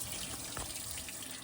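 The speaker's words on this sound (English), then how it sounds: "Now I've got to drain the water out of it so it doesn't get everywhere in the garage." Water draining steadily out of the big-block engine of a 1971 Dodge Charger Super Bee during a water pump replacement in a garage, a continuous faint rushing trickle with no talk.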